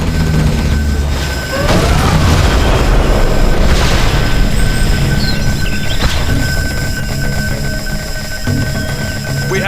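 Tomahawk cruise missile strikes hitting targets in C&C Generals, a loud wash of booming blasts and rumbling debris over continuous game background noise, with several heavy impacts around two to four seconds and again near six.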